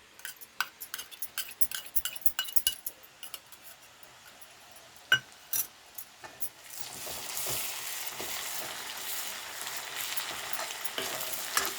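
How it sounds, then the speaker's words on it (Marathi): Ginger, garlic and chili paste hitting hot oil in a pan while cooking egg biryani, preceded by spoon clinks and stirring, then a steady broadband sizzle that swells and continues to the end. "आता याच्यात आपण आलं लसूण मिरचीची पेस्ट केलेले आहे ते टाकूया."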